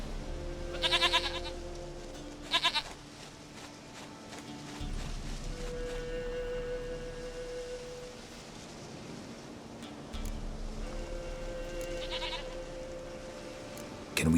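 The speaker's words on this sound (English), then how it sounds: "Goat of mine, dearest, sweetest goat." A goat in The Witcher 3 video game bleats in two short wavering calls near the start, followed by game ambience with tonal hums and a later faint bleat, all close and clear.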